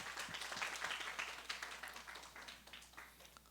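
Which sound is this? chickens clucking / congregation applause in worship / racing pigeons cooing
congregation applause in worship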